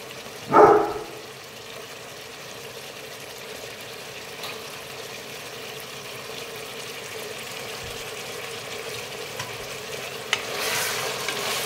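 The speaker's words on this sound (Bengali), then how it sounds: "চিকেনটা অনেকটাই ভাজা ভাজা হয়ে গেছে, এবার আমি প্রথমে দিয়ে দেবো গাজরটা" Chicken and carrots fry in a pan, opening with a short clattering burst as the carrots go in, then a quiet, steady sizzle and faint stirring that carry on to the end.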